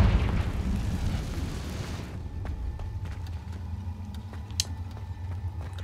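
In the video game Hogwarts Legacy, the Confringo fire spell sets off a loud, roaring explosion that surges for about two seconds and then drops to a low rumble. Faint clicks and game ambience follow.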